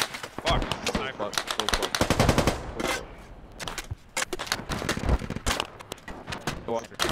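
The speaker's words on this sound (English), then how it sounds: "Being hit by a sniper or something." Gunfire crackles in a Squad video game battle, with rapid bursts of sharp shots coming close together and loud throughout. Voices talk over the firing.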